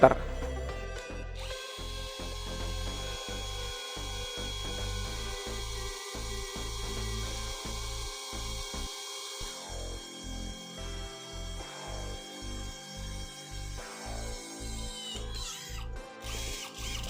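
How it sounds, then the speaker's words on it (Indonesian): A cordless brushless drill whines steadily through 4 mm steel plate, then runs in short repeated bursts, its motor pitch rising and falling close by. "Saya mengebor di media besi dengan ketebalan 4 mm."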